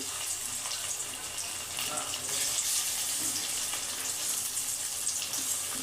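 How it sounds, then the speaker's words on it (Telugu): Masala-coated fish pieces frying in hot oil, a bright, hissing crackle spreading evenly across the whole span at moderate loudness, with no clear speech over it. "మనం హీట్ అయిన ఆయిల్లో ఇలా వేసేసుకోవాలండి"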